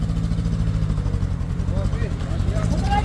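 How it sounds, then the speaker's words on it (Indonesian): A Suzuki Escudo engine labors and strains while climbing a steep hill at Bukit Kodok, a steady low drone running throughout beneath the voices of people talking nearby. "Perjuangan mobil Escudo."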